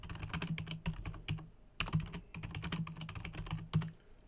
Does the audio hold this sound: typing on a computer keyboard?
yes